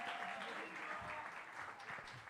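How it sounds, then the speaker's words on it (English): Audience applause at a small-business workshop giveaway, a steady dense wash of clapping filling the whole stretch, fairly faint and even. "Let's give them a round of applause."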